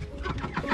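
Chickens on a rural street in Manikganj, Bangladesh, clucking in a short, close, fairly loud burst of choppy calls.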